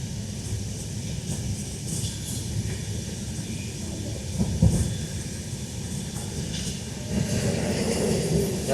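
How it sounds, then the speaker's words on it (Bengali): The Gaya Vande Bharat Express 22303 crosses on the Howrah line, heard from inside another moving train as a continuous low rumble and rush that swells toward the end, with no voices. "বন্ধুরা, ক্রসিং হবে গয়া বন্দে ভারত"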